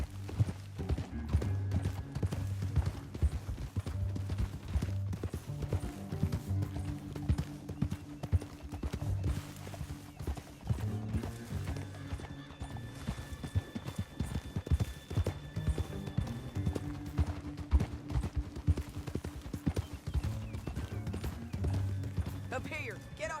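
Horses gallop in Red Dead Redemption 2, their hooves making a rapid, rhythmic clip-clop that carries on steadily throughout, with voices talking over the hoofbeats.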